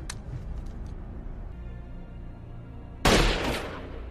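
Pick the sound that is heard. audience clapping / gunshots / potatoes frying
gunshots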